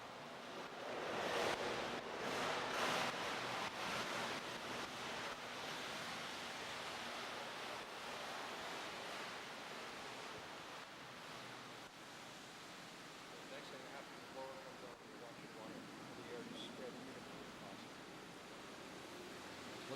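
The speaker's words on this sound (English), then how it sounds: "What's happening now is the water's draining out. New water is coming in. Air is being introduced." Water drains from a filter basin during backwash at a water treatment plant, a steady broad rushing and churning wash that swells early and continues unbroken, with a voice speaking over it at times.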